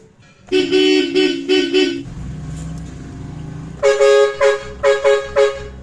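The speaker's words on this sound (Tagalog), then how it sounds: "Ganun kalakas yung busina natin." A loud, brassy bus air horn fitted to a Toyota Fortuner blasts in a long stuttering burst, pauses, then honks again in five short, punchy bursts, very close.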